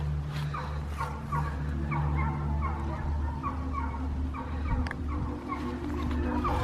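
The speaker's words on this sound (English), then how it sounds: "That sounds like a bunch of dogs." Several dogs bark and yip at a distance near a cemetery, with repeated rhythmic calls that are faint and overlapping, over a low steady background hum.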